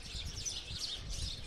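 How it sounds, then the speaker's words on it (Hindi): House sparrows chirp and twitter at a millet feeder behind the Tanot Mata temple in Jaisalmer, a soft, steady high-pitched chatter of several birds over low background rumble. "गौरैया यहाँ बैठ जाती है और बैठ करके इस पर बैठ करके एक एक दाना इसमें से बाजरी का निकालती है।"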